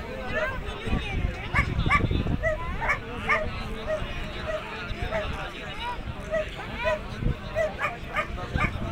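Hunting dogs bark repeatedly at a race in Rajewal, Khanna, with sharp barks and yips near and far over constant crowd talk.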